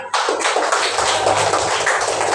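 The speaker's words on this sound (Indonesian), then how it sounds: "tepuk tangan kawannya" Classmates in a school classroom clapping for fellow students: a short burst of children's clapping, fairly close and busy, with faint voices murmuring underneath.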